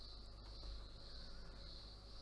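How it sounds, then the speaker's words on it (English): Cicadas buzz in the background as a faint, steady high-pitched drone that holds unbroken throughout, with no voices. "Did I go over the cicada thing? We got them in the background. That's what you're hearing in the background."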